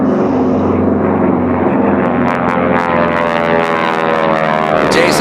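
Several AT-6 piston-engine racing airplanes roar past at the Reno Air Races, a loud, continuous droning engine snarl holding steady for the whole stretch with no talk.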